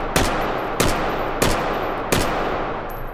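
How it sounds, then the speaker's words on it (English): A rifle fires evenly spaced shots on a bench-rest range in the H3VR shooting game, each sharp crack loud and close, four in this stretch, with no talking. "let's fire a group of five shots to establish a sort of baseline for this."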